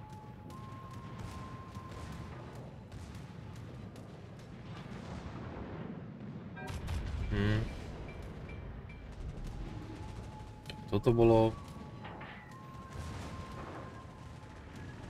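Heavy naval gunfire from the battleship Yamato in a naval combat video game: two deep booming salvos a few seconds apart, set over a steady low rumble while someone comments in Slovak.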